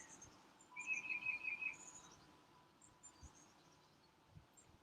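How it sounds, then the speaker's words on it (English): Birds sing faintly outdoors, with a short trilling phrase and a few scattered chirps over a soft breezy background and insect hum. "Listen to the birds and breathe."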